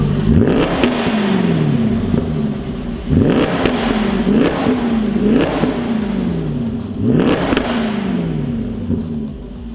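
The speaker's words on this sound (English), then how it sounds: "The V8 has come to life." A Jaguar XKR V8 fitted with a Milltek performance exhaust is revved hard three times, each blip rising sharply and falling back to a deep, rumbling idle close by.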